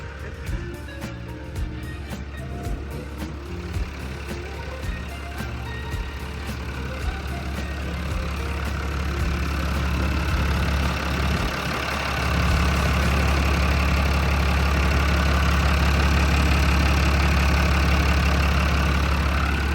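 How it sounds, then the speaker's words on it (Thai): A Sakai TS150 pneumatic-tyre road roller's diesel engine idles with a low, steady rumble, then picks up and runs louder and heavier for the rest of the time. "เดี๋ยวเราไปเปิดเครื่องยนต์ ดูกันนิดนึงนะครับ"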